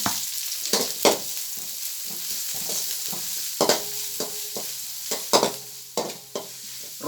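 Onions frying in hot oil for a Tamil-style chicken fry: a soft continuous sizzle broken by sharp clacks and scrapes of a spoon against the pan, irregular and close.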